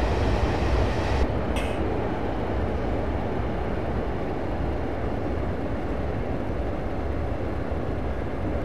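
A steady, dense rumble of a Class 142 train running in Train Simulator 2015 on the Bishop Auckland to Darlington route, with a brief hiss of brakes partway through; no talking.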